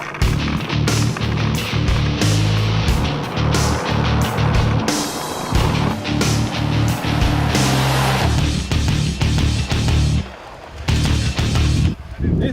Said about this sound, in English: when I put my foot down, then it kind of climbs and goes down.